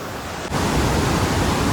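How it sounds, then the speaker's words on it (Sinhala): Water flowing in a stream below a hillside viewpoint at Belihuloya, Sri Lanka: a steady, loud broadband rush that swells after a brief quieter moment and continues unbroken. "මොකද මේ ලස්සනයි අර පහලින් වතුර ගලා යන හින්දා දකිත් බයයි"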